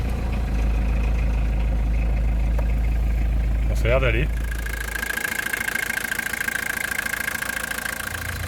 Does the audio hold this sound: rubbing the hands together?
no